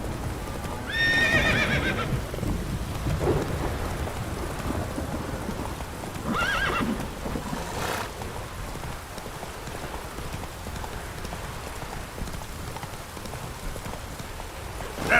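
Roach, a horse in The Witcher 3: Hearts of Stone, neighs loudly near the start and again around the middle, over a steady patter of clip-clopping hooves with rain and distant rumbling thunder behind.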